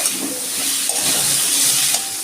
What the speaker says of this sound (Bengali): আলুটা আমি একটু লাল লাল করে ভেজে নেব।